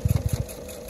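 A Husqvarna Viking sewing machine with a quilt binder attachment stitches binding onto a quilt in a brief run of rapid, close mechanical thumps that then stops, leaving a steady low hum.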